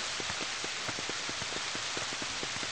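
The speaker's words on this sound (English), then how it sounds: "As you can see, it's raining, which is pretty cool." Steady rain patters on surfaces in the Dinosaur Planet video game, a dense continuous hiss with scattered sharper drops falling throughout, fairly loud and with no talking.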